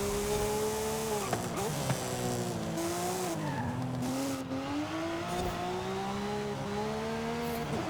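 A Porsche Cayman GT4 RS in Forza Horizon 5, heard from the interior with a racing transmission, revs hard with a steady whine as the engine pitch rises and dips through gear changes, with tire squeal and skidding mixed in.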